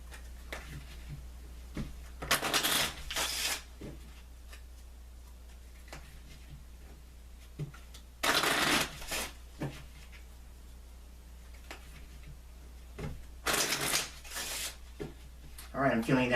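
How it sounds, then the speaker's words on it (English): Oracle cards being shuffled by hand in short rustling bursts, several separate riffles spread across the span with quiet pauses between, close and moderately loud over a low steady hum. "So I'm focusing on that as I shuffle."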